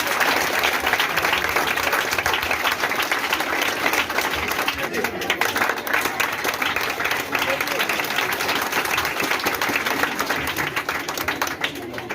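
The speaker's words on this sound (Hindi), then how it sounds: "अतुल का एक जोरदार ताली से स्वागत" An indoor audience at a Teacher's Day celebration in a coaching class claps continuously as a student is honored for placing second. The dense, even applause fills the whole stretch without a break.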